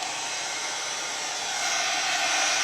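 A hair dryer runs continuously while drying resin coasters, with a close, steady airy roar that grows slightly louder partway through.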